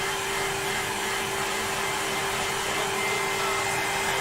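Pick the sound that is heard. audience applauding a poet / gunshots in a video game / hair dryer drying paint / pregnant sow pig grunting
hair dryer drying paint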